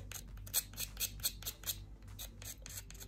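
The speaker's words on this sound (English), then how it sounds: "I'm just going to use my scissors and just roughen this up." Scissors scraping and rasping across a hair bow embellishment to roughen its surface, a close series of quick irregular scratchy strokes with no talking.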